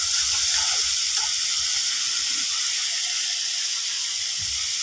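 Mixed vegetables frying in spices with dried fish (shutki) in a pan: a steady, loud broadband sizzle and hiss runs unbroken throughout, with faint low stirring knocks underneath and no voices.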